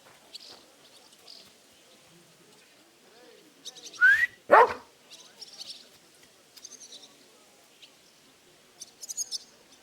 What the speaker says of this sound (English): You better call back that dog.